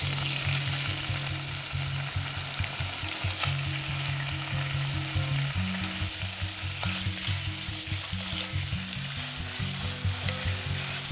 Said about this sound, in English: we're gonna add sesame oil to our pot and add in our meat.